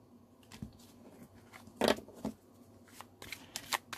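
Tarot cards shuffled for a last draw, heard as soft papery riffles and flicks, with one louder burst of rapid snapping, then several short crisp clicks and taps, close and fairly quiet.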